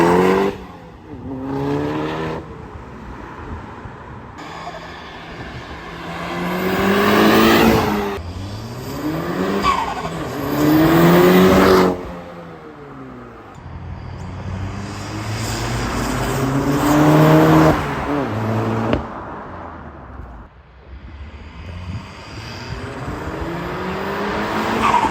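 A loud Volkswagen Golf MK6 R engine with an APR turbo-back exhaust revs hard repeatedly, pitch sweeping up and down with raspy exhaust bursts and brief dips between pulls, close by.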